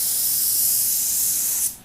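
A spray gun applies metal flake paint over a silver base in a steady, loud, close hiss that holds constant, then cuts off abruptly near the end.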